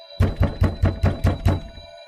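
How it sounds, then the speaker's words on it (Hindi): Loud knocking on a window at midnight: seven sharp, evenly spaced raps in quick succession, close and heavy, then silence. "फिर आधी रात होते ही उस खिड़की पर जोर जोर से खटखटाने की आवाज आती है।"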